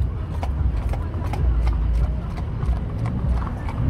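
Steady rhythmic clip-clop of horse hooves on hard ground amid a rumbling, noisy outdoor crowd background at a Martin Luther King Day parade in Oklahoma City.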